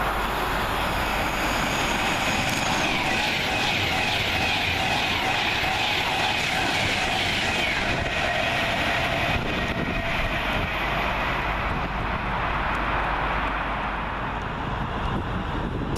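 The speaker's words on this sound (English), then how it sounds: "First southbound flyer now is 390-127 for Avanti West Coast." An Avanti West Coast Class 390 train passes through Milton Keynes Central station with a loud, sustained rushing roar. The sound holds steady throughout, mixed with wind buffeting, and no one speaks.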